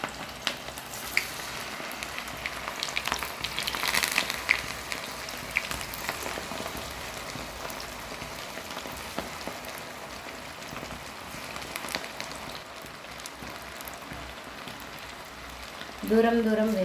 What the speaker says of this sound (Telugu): కలుపుకున్న చికెన్ని ఆయిల్లో వేసుకున్నాం